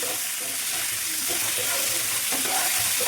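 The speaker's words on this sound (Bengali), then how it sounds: "আলুগুলো লাল লাল করে ভেজে নিতে হবে" Potatoes sizzle steadily in a pan after three spoons of salt go in, a dense close frying hiss with faint stirring scrapes, no voices.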